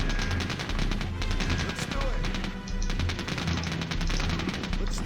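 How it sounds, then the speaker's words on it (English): Sustained rapid machine-gun bursts from an American Tommy gunner in the Sudden Strike war game, dense and continuous with battle noise for about five seconds. "Got the Tommy gunner. The American machine gun."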